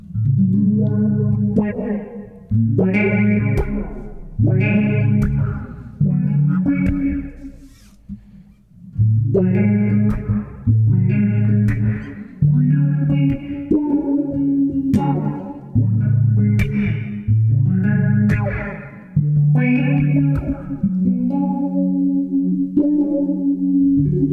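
Bass guitar notes ring out in a steady sequence of sustained phrases, washed in reverb and a chorus-like shimmer from Keeley Electronics effects, with no voices.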